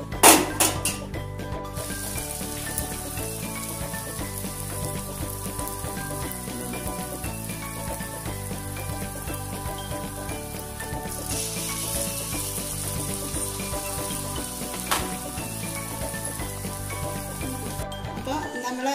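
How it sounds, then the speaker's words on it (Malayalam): Eggplant fritters (baigan pakoda) frying in hot oil give a steady, close sizzle throughout, with a few clinks of a utensil against the pan at the start and near the end. "നമുക്ക് എല്ലാ പീസും വറുത്ത് കോരിക്കാം."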